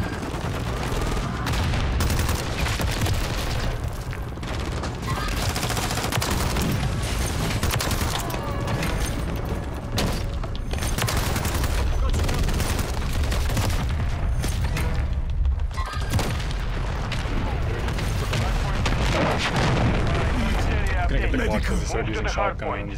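Nuke strike explosions boom and roll on the Stash House map in Modern Warfare 3, with continuous heavy blasts and gunfire-like crackle filling the whole stretch and a voice talking over the din.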